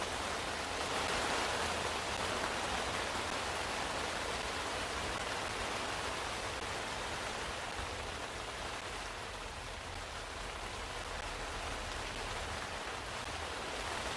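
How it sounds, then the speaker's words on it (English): Heavy rain that has suddenly picked up falls before a storm, a dense, even roar of drops that holds steady throughout with no voices. "Hear the rain?"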